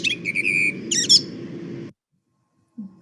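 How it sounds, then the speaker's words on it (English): Blackbird singing into the dusk from a garden fence or chimney pot, bright fluting phrases and chirps over a steady low rumble, then a short silence and a faint thump. "blackbirds sat on the top of your fence or on a chimney pot, just singing their hearts out into the dusk"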